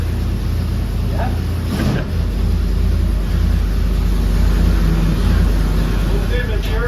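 An engine idles on a dyno with a low, steady rumble that fills the space, and a brief louder blip comes near the start. Voices talk faintly over it.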